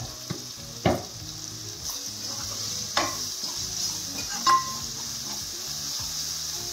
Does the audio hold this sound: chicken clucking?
no